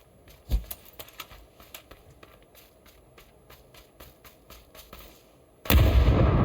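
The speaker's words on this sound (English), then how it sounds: "We'll probably just blindly throw a grenade at that." A grenade thrown and exploding in a first-person shooter video game: a few sharp thuds and clicks, then a sudden loud blast that fills the end and stays at full volume.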